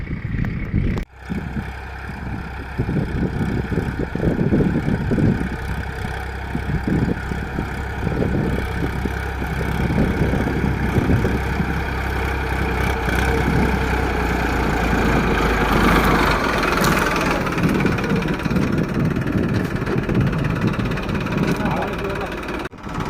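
Farm tractor engine idling beside a field by a dirt track, a steady low rumble running throughout with loud, close wind-buffeted noise and faint people's voices layered over it.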